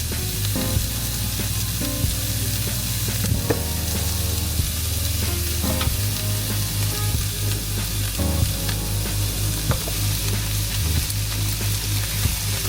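Chopped apples for breakfast cooking in a pan, giving a continuous loud sizzle with occasional stirring scrapes and clinks, close up and with no voices over it.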